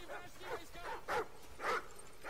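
Dogs bark in a Modern Warfare first-person shooter: several short, sharp barks in quick succession, fairly close and moderately loud, heard alone.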